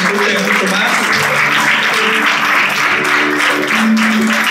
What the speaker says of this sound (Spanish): Esas palmas, por favor, que se sienta, que nos escuche mucho más.